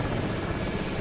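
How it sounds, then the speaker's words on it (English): An aircraft roars past in the video game Arma 3, a loud, dense, steady engine and rotor-like drone filling the whole second with no talking. "that's a bit of a Tom Cruise flyby there"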